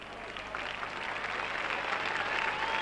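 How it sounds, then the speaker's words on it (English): Sympathetic applause rippling around a rugby league ground during a 1986 Wigan v Hull Kingston Rovers playoff as an injured player leaves the field, a soft, distant, steady crowd clapping. "Sympathetic applause all around the ground for Detroit"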